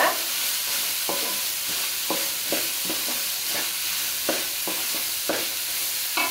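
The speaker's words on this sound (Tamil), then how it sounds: "நல்லா வதக்கிக்கோங்க" Beans and carrots sautéing for egg noodles in a hot pan: a loud, steady hiss of frying with a series of rhythmic spatula scrapes and stirs cutting through it.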